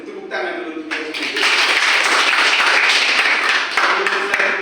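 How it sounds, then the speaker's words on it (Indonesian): Elementary classroom pupils break into loud, dense hand clapping that swells after a brief lead-in and continues steadily for several seconds, close and bright with scattered voices beneath. "Kalau begitu tepuk tangan dulu untuk resepsi"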